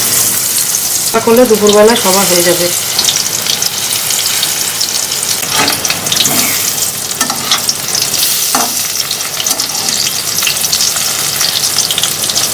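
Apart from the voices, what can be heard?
fritters (bora) frying in hot oil in a wok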